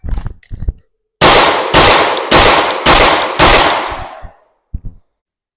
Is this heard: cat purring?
no